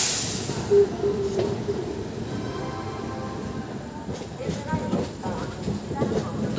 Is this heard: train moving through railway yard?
yes